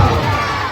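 Crowd at a Ganpati immersion by a pond, a dense burst of cheering and shouting voices close by, loud and continuous for a moment.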